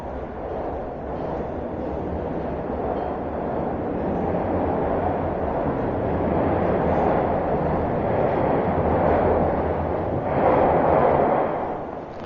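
A southbound Toronto subway train pulls away from the platform, its steady low rumble swelling and holding for several seconds with no talk over it.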